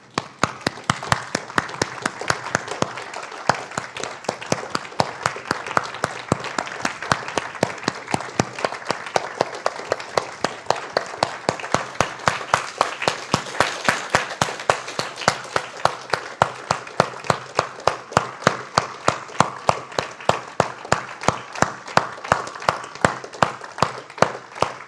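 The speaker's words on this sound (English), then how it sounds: "I want you to just all to start clapping" An audience claps together in a group exercise, a dense, steady stream of hand claps sustained for a long stretch with no talking.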